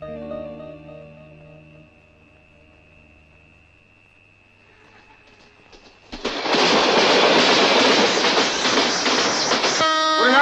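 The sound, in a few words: train moving on rails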